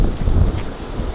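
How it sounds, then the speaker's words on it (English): Wind buffets the microphone with a low, steady rumbling rush that stays close and fairly loud throughout a brief stretch, with no voices. "Man, it's windy."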